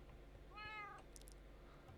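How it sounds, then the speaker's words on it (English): A house cat meows once, a rising-falling cry of about half a second, heard faint and slightly distant over steady room hum during Minecraft play. "I can hear my cat below me."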